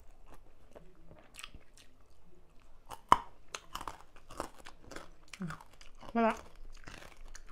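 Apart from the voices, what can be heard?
eating crunchy som tam papaya salad with pork roll and shrimp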